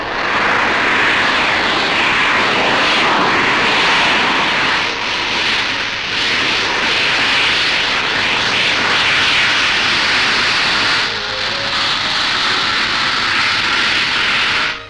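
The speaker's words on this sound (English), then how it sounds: "Coming in to land now, and in a moment you'll see that for a second or two, the SC1 even flies a few feet backwards." A Short SC1 VTOL jet aircraft coming in to land, a loud continuous roaring engine wash that holds steady throughout with slight swells, no voices over it.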